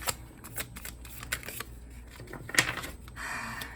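A deck of tarot cards is shuffled by hand at close range: quick papery riffles and soft flicks in irregular bursts, with a longer rustling slide near the end and no talking.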